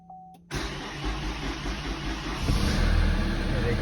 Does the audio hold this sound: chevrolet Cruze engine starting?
yes